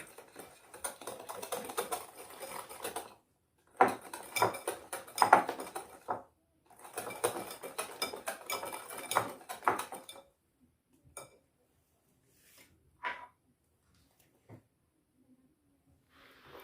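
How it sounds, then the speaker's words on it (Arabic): A spoon or whisk clatters against a bowl while basbousa batter is stirred with oil, quick scraping clicks in bursts separated by short silences, fairly faint and close. "غادي نعاود نخلط المكونات مزيان"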